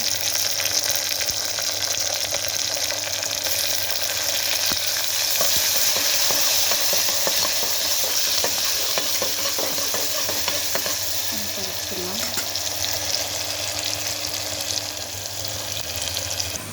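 Onions and tomato fry in a pan with a continuous loud sizzle, while a spoon stirs and scrapes through them in uneven strokes, close up with no talking.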